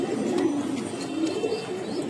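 Pigeons at a pigeon farm in Mirpur, including high-grade Damascene birds, coo in a steady, continuous low murmur that stays close and fairly loud for the whole stretch, with no talking.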